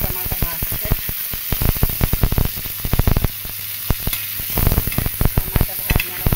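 Tomatoes and green chillies fry in oil for a village-style Maharashtrian thecha, giving a loud, close sizzle with rapid, irregular scraping and clacking from vigorous stirring throughout.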